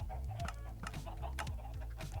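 Chickens in a Minecraft Bedrock egg farm cluck in short repeated bursts, several quick calls overlapping at a moderate, close distance with no talking.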